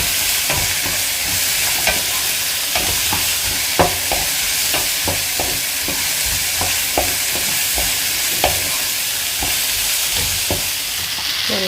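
Okra sizzles steadily in hot oil in a pan for a Kerala-style okra curry, with a spatula scraping and clicking against the pan at irregular intervals, roughly every second. The frying is close and fairly loud, with no voices.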